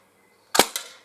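A Swiss Arms Uzi air gun fires a single sharp, close crack outdoors, followed a moment later by a fainter snap of the pellet striking, then quiet.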